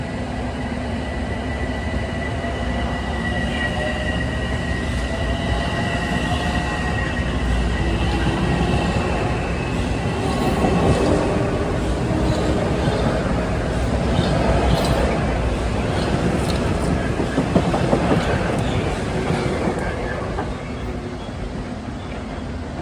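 Metro-North train heading toward Grand Central on the Hudson line, a loud continuous rumble of rolling wheels and engine drone close by, with a faint voice briefly audible.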